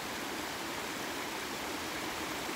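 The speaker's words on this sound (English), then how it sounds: "I found a waterfall." A small waterfall pours in an outdoor park setting, a steady broadband rush of flowing water that stays even and close throughout, with no voices.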